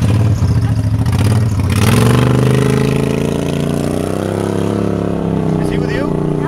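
A modified extreme golf cart on 20-inch low-profile automotive wheels, capable of about 75 mph, runs loudly with a steady, rough engine drone and rising revs throughout, close up, with people talking over it.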